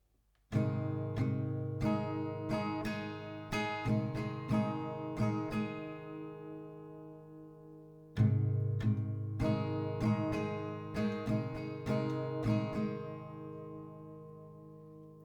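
Acoustic guitar plays a song slowly, chords picked and strummed one at a time with ringing decay, a brief pause midway before the pattern repeats.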